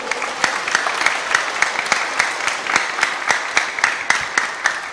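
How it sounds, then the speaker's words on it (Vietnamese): A church congregation in a Vietnamese parish claps in congratulation, a close, sustained round of applause with sharp individual claps standing out against the dense patter. "Có tràng pháo tay nữa để chúc mừng."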